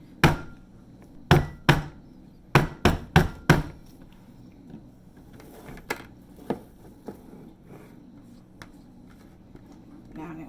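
Thick cold process soap batter being patted down in a mold, close by, with several sharp dull thumps in irregular bursts, then quieter scattered taps.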